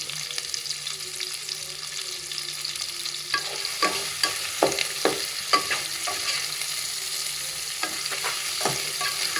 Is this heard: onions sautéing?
yes